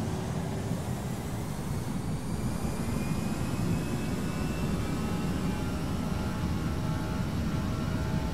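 Airliner jet engines roar steadily through a takeoff roll, a dense broadband rumble with a faint high whine, continuous and loud from start to finish with no talk.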